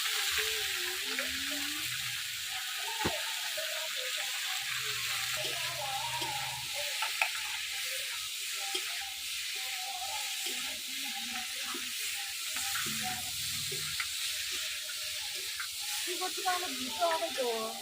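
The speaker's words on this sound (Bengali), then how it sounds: "এবার সুন্দর করে ভাজবো, যত ভাজবো তত ভালো হবে।" A katla fish head fries in oil with spices, giving a steady soft sizzle and hiss with occasional stirring scrapes, fairly faint and close.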